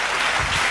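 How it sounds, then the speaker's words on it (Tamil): Congregation at a Tamil church service clapping hands together, a steady dense wash of applause that fills the short moment without speech. "நல்லா தட்டணும்."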